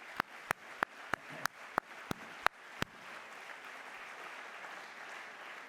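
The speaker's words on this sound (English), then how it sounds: "And I would like us to clap for Henri-Claude" Audience at an INSEAD MBA graduation ceremony applauding an honoree: a string of sharp, evenly spaced claps opens, then dissolves into steady, dense applause from the crowd, moderately loud.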